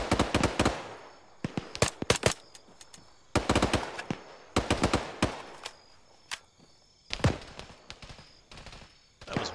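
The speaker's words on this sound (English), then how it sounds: "There was so much noise that my gunshots didn't register." Bursts of rapid automatic gunfire in a video game crackle in several separate volleys with short pauses between, loud and close, mixed with single shots.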